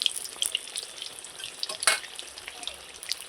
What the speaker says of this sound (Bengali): লাল লাল কত সুন্দর করে বেগুনিগুলো ভেজে নিচ্ছি